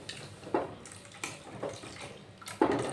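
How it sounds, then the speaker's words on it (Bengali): Boiled milk poured into a pan holding sweet potato for a rabri, giving a close liquid splashing and gurgling with a few stronger surges over a few seconds and no talking. "এর মধ্যে দুধটা ঢেলে দিলাম।"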